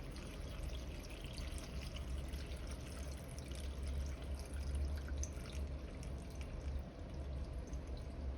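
Water pours steadily into a pot holding kale and potatoes, a continuous splashing trickle that stays fairly constant, close and moderately loud with no talking.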